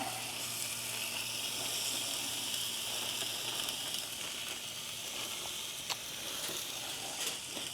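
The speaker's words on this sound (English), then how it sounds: "Take my rice and veggies, dump it right in there on top of the meat." Rice and vegetables hit frying meat at an overland camp kitchen setup, giving a steady, fairly quiet hissing sizzle with occasional small pops and clicks, no speech.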